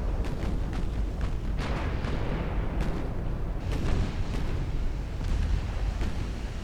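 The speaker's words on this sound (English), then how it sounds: "My ship is ramming the enemy battleship." A ship rams an enemy battleship in a pre-dreadnought naval battle video game, with rolling booms and crashing impacts over a continuous heavy rumble, loud and dense throughout.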